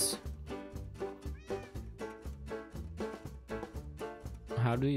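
A cat meows repeatedly in quick, rhythmic, close-up cries, with a person's voice briefly heard near the end.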